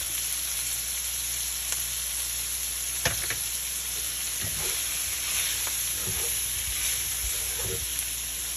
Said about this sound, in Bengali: এখানে আমি চিংড়ি মাছটা একটু ফ্রাই করে নিচ্ছি